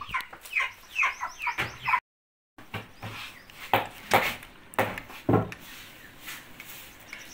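Chickens cluck repeatedly at close range on a farm where a chicken is about to be prepared, with short bursts in an uneven rhythm and a brief gap partway through.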